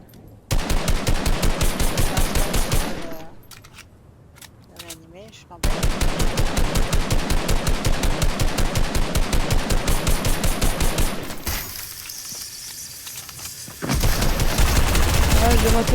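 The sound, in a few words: gunshots in a video game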